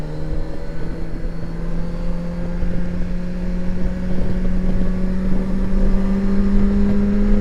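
Kawasaki Versys 1100 motorcycle engine, 2025 model, revving steadily with a rising drone while riding on a damp, cold road, loud and close with wind rush, no talk.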